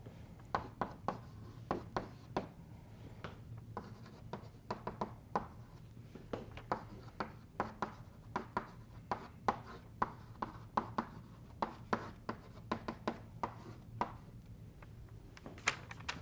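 Chalk tapping and scratching on a board during a physics lecture on renormalons, a steady run of sharp strokes and taps repeating across the stretch, close and fairly clear with no talking.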